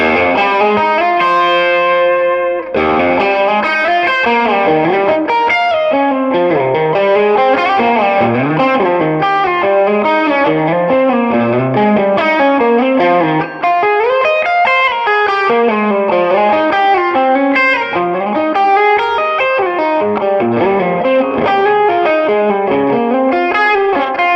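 Overdriven electric guitar, a Patrick James Eggle 96 through a Tube Screamer with tone at half, plays a continuous melodic line with a gritty, slightly bright edge and light reverb, loud and close, with no talking.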